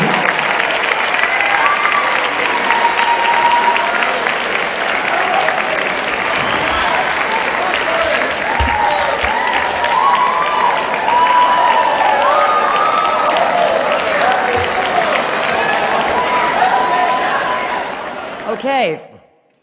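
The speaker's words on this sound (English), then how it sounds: "Let's hear a big round of applause for the Ramaz graduates of the class of 2013." Sustained applause and cheering from a large crowd greet the Ramaz class of 2013 graduates at their graduation ceremony, loud and continuous before fading out abruptly at the end, with voices mixed into the clapping.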